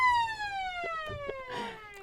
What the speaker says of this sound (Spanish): la sirena de viento